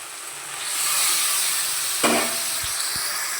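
Bombay duck fish pieces cooking in a spiced masala, a steady hissing sizzle that builds and then holds, with one sharp utensil clank and a couple of soft knocks later on.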